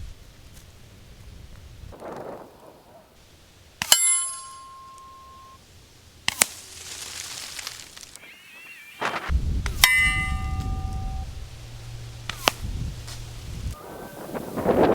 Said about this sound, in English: We get a target's eye view of what the bullets sound like coming down range.